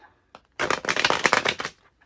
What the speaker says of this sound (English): I just want to give this one last shuffle.